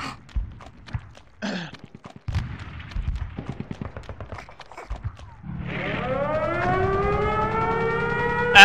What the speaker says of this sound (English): Oh joy, sirens.